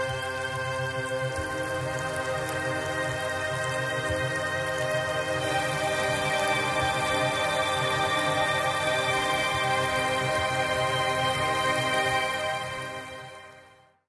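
Two combined synth pad sounds from Rigid Audio Pad Station play a sustained, shimmering chord that holds evenly and then fades out at the end, with no talking.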